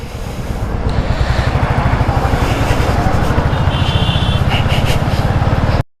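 A Royal Enfield Classic 350 Reborn motorcycle engine runs during a ride, a loud, steady low thump with rapid even pulses and wind rush over it, carrying on for several seconds before it stops abruptly.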